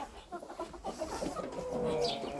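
Cochin chickens clucking while they roam and scratch in a vegetable garden, with soft, scattered clucks and calls at close range over faint outdoor background.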